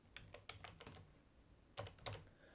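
Someone types a word on a computer keyboard, with quiet, close keystrokes in two bursts: a run of rapid taps, a pause, then a few more clicks. There is no talking.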